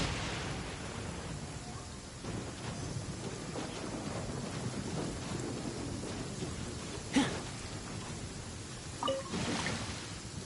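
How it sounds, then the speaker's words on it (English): Rain and thunder in the video game Genshin Impact: a steady hiss of rainfall fills the background while a couple of brief, sharp cracks stand out partway through and near the end. "Where'd this rain?"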